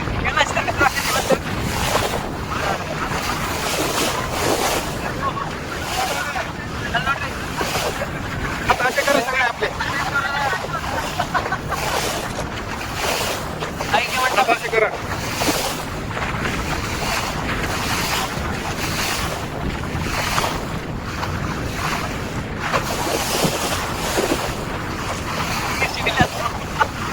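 A boat ride on the river at Kudalasangama, with a steady rush of water and wind buffeting the microphone throughout, a continuous wash of spray and engine-like drone under faint voices.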